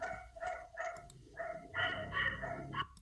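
Puppies barking and yipping in rapid repeated bursts at moderate distance, running almost continuously, with a faint murmur of a classroom audience underneath.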